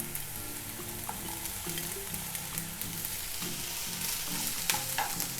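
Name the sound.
onions and red peppers frying and stirred in a pan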